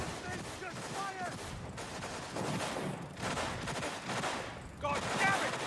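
Rapid gunfire in the video game Cyberpunk 2077 rattles in dense bursts over a steady combat din, with occasional voices and bright metallic clinks scattered through the exchange.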